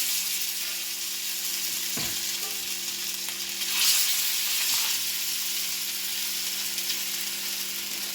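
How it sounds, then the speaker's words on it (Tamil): Masala-coated fish frying in a little oil on a dosa griddle, a loud, close, continuous hiss and sizzle that swells briefly midway, with no talking. "இப்போ மீனை வந்து வறுக்கலாம்"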